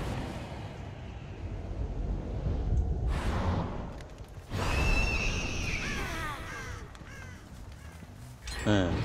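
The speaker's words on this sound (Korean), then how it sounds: "까마귀 울었는데?" Crow caws from the horror game Dead by Daylight, a few harsh calls rising over a dark ambient game background, with a player talking and sighing through part of it.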